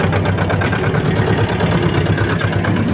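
A T-25 tractor's heavy engine rumbles steadily up close, a loud continuous chugging drone with no voices over it.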